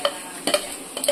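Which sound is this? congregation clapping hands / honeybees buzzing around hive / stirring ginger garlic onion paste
stirring ginger garlic onion paste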